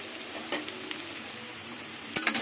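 Jackfruit pieces fry in hot oil with a soft, steady sizzle, punctuated by a few quiet clinks of a utensil stirring near the end, no voices present.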